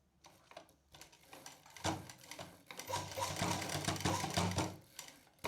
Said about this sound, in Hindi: फिर निकाल देंगे, सेंटर तक सीधा सिलेंगे।